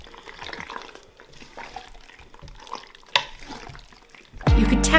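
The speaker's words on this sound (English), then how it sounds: "Give it a good stir so all of that cheese gets into those little crevices" Cooked pasta stirred through a thick cheesy sauce in a pot, soft wet squelching and scraping up close, ending in a sudden louder burst of clatter.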